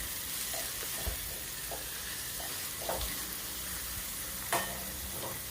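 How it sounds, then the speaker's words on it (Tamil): Vegetables sauté in ghee in a single pot for veg biryani, with a constant soft sizzle and hiss broken by occasional scraping stirs of a spoon against the pot. "காயெல்லாம் அந்த நெய்யிலையே கொஞ்ச நேரம் வேகட்டும். அடிக்கடி கிளறி விட்டுட்டே இருக்கணும்."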